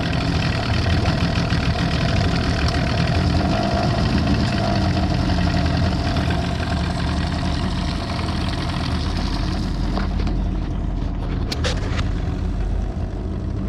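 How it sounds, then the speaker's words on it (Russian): A four-stroke outboard motor runs steadily at idle in cold weather near freezing, a constant loud mechanical drone with a few brief clicks near the end. "Мотор завелся, вода пошла, это уже радует."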